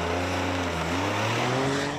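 A Toyota GR Corolla's engine revs climb steadily under hard acceleration, a loud, close, continuous drone with rising harmonics and no voices.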